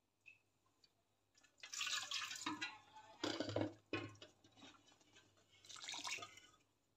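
A little water poured into a pot of cooked green mung beans, heard as several short, splashy pours and drips separated by quiet pauses, fairly soft and close.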